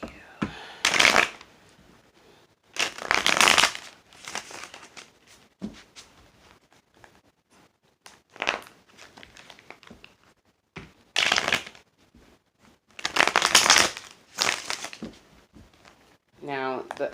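Tarot cards are shuffled by hand in repeated bursts of crisp riffling and flapping, separated by short quiet gaps, close and fairly loud.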